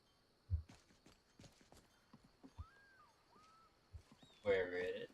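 A video game horse mount in Wunduniik clip-clops with scattered, uneven hoof thuds, ending in a louder burst, with a person talking throughout.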